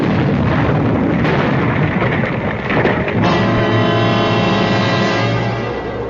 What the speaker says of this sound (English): there was a flash of light and a loud explosion.